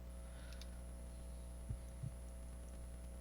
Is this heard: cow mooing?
no